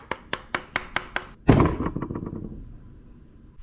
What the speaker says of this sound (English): just give this some love taps with the body hammer here